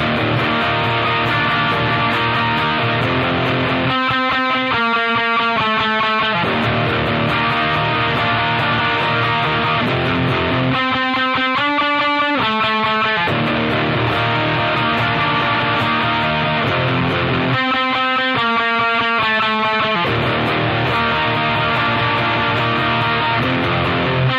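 An electric guitar plays a slow passage with sustained chords and occasional quick picked note runs, steady and continuous, with no voices.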